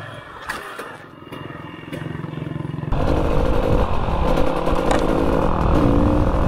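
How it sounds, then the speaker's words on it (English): A KTM GasGas dirt bike engine revs on a rainy day, a loud, close, buzzing two-stroke-style drone that rises and grows harsher as the bike accelerates, with clattering wind and ride noise. "How's the bike going today, Mitchum?"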